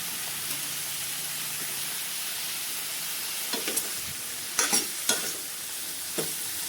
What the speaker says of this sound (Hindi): सभी चीज़ों को मिलाकर अच्छे से भूनेंगे और इनको ढक ढक के भूनेंगे ताकि ये पकता भी रहे इसमें।